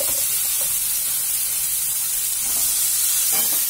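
Cabbage cooks in hot oil with turmeric, red chili powder and curry leaves, giving a steady, close, loud sizzling hiss that continues throughout without speech.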